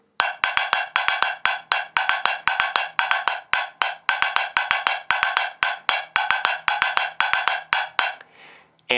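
Fast, busy palitos rumba pattern struck on a Van Croft woodblock: a steady stream of crisp, hollow wooden clicks in a syncopated repeating figure, close and clear with no talking, ending with a brief rustle.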